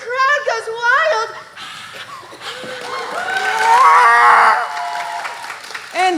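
Young children shout and whoop close by, imitating a wildly cheering crowd, their high voices swelling into a loud, sustained cheer in the middle before trailing off into chatter.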